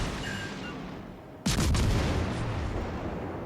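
Warship guns firing in the naval game World of Warships Legends, one sudden heavy boom from a salvo that rumbles and fades over the ongoing sea and battle ambience.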